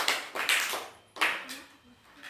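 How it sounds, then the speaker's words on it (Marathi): Children in a classroom clap in short, uneven bursts, loud and near, with a voice speaking faintly between and over the claps. "टाळ्या वाजवा सगळ्यांनी। शाबास।"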